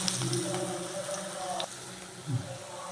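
Pakoda pieces frying in hot oil for coconut milk pakoda kuzhambu give a steady close sizzle and bubbling crackle throughout, with a brief stirring clatter near the end.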